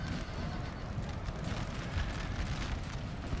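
Massed musket volleys from Russian troops in a Napoleonic Total War 3 battle, a dense continuous roar of distant firing and battle noise with no clear individual shots.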